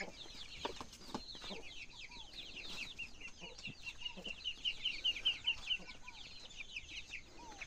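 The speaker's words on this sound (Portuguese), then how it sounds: "Olha a galinhazinha de pinto" A hen with chicks clucks steadily at close range, with soft repeated clucks and high thin peeping running through the whole stretch, recorded outdoors on a farm where chicks are being fed.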